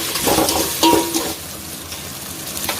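Dried red chillies drop into a hot pan for a Tamil-style chicken uppu kari and fry with a steady, hissing sizzle, with a few sharper crackles and stirring clatters early on before it settles into a softer, even fry.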